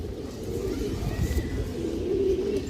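Pigeons of several kinds, including satin, kaldam and silver birds, give low throaty coos over a dense murmur of background noise. The calls are close and steady throughout, with no clear speech.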